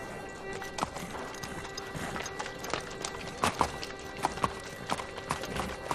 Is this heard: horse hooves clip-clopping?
yes